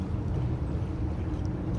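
A small sailboat motors along a harbor channel, its engine making a low steady drone with wind buffeting the microphone and no voices.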